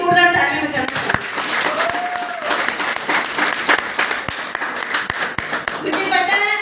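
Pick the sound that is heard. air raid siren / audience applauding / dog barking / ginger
audience applauding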